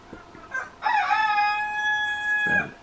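A rooster in a backyard flock lets out one loud, drawn-out crow after a couple of short clucks, the call holding steady before cutting off, with no talking.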